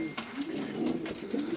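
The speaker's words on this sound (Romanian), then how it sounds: "Masculul care cheamă, nu?" A male racing pigeon coos continuously up close, a low, throaty rolling call that swells and dips over a short stretch, with a brief flutter or tap near the start.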